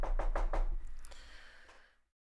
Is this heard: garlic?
no